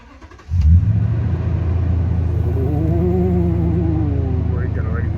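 Vehicle engine running through a newly installed muffler exhaust: it starts up and settles into a loud, steady, deep rumble, with a voice talking over it.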